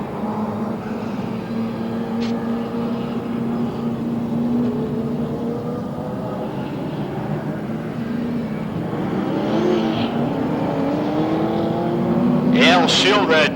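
Race cars circle the oval at Rockford Speedway during a 1991 ARTGO 300 race, a continuous drone of engines rising and falling as they pass, with a public-address voice talking over it.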